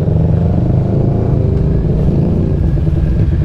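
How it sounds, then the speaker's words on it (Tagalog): A Ducati Scrambler motorcycle rides in Manila traffic, its engine rumbling steadily and loud throughout amid general road noise, with no talking. "Nice, a Ducati Scrambler."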